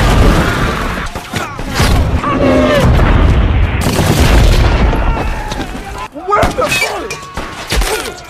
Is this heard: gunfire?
yes